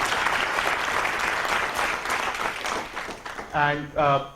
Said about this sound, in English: So one round of applause for a great organized program